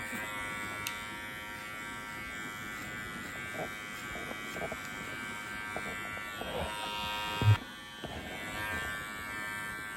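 Electric hair clippers buzz steadily while cutting hair upward from the nape of the neck during a short men's haircut at a barbershop, a constant close drone with a brief louder knock near the end.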